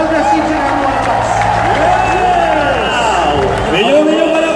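Crowd applause and cheering at a company year-end training event, a loud continuous wash of clapping and voices carried under a loud music bed throughout.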